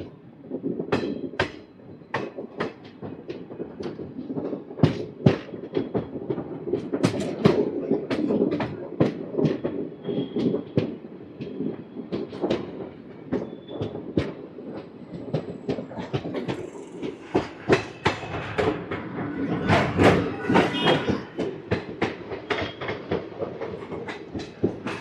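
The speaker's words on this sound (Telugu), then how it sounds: "ట్రైన్ అయితే నెమ్మదిగా కృష్ణానది మీదకి అయితే వెళ్తుంది." An express train from Vijayawada to Guntur rolls slowly across the bridge over the Krishna River, its wheels beating out a steady, repeated clickety-clack over a constant loud rumble that runs on without pause.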